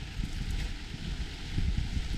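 Wind gusting on a hillside during a rainy solo hike, buffeting the microphone with a loud low rumble that swells and eases throughout, with no voices.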